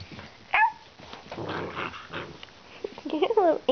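A playful puppy growls and yips in short bursts, close and fairly loud, with small whimpering squeaks at the start and a scrappier growling run near the end, while a person talks encouragingly in between.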